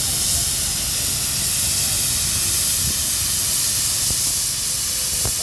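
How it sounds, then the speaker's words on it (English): A steam traction engine at a rally lets off steam as it passes, producing a loud, continuous broad hiss with a low mechanical rumble underneath and a few light knocks. "Now slowing off a little bit of steam there as she goes past."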